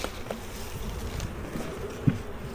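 Bees buzz steadily around a freshly treated, cleaned hive, a low continuous drone at moderate distance with no talking.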